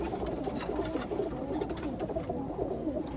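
Pigeons cooing together in a loft, a dense continuous chorus of low throaty coos close by and fairly loud, with no voices over it.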